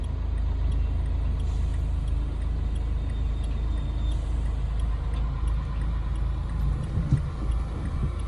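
A car creeps forward in first gear during a driving lesson, pulling out of a parallel parking spot, with a steady low engine hum and faint ticking from inside the cabin, close and continuous.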